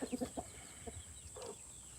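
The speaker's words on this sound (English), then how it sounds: "And them's chickens from the original" Hens on a backyard farm cluck in a quick burst of three or four notes near the start, then scattered softer clucks follow over a steady background hum, with no talking.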